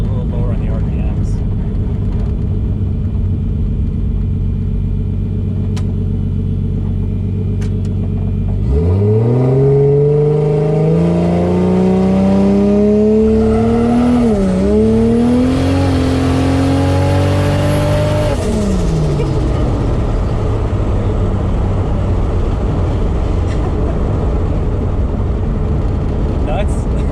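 1JZ-swapped Foxbody car launching and accelerating hard, with the engine note climbing steeply through a long, loud pull and a brief dip mid-run before easing off, heard from inside the car over a constant roar.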